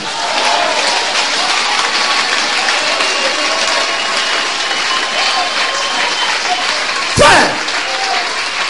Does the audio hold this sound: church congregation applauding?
yes